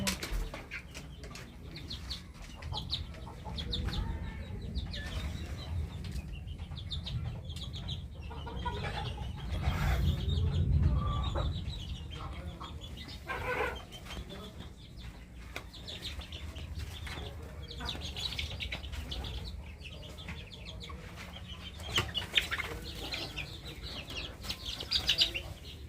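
Desi and Fayoumi chickens cluck continuously in a poultry selling spot, with occasional wing flaps and faint background voices.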